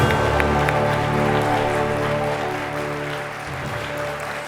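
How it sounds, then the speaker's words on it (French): A gala audience at an awards ceremony claps for the laureates, a steady dense applause that starts strong and slowly tapers, heard alone without talk. "Est-ce qu'on peut les applaudir encore une fois?"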